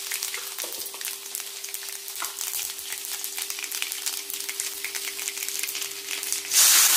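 Cumin seeds sizzle in hot oil for a spiced potato and okra (aloo bhindi) sabzi, a close, steady crackling hiss dotted with sharp pops, swelling louder in the final moment.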